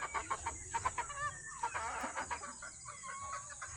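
Backyard chickens cluck in a busy, overlapping chorus, with a rooster's crowing mixed in, close by and moderately loud over a steady high hum.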